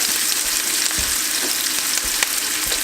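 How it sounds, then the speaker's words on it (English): Ingredients for Vietnamese caramelized clay pot fish frying quickly in a hot pan, a loud, dense, continuous sizzle with occasional stirring knocks, close up and with no voices. "I want to fry this up really quickly."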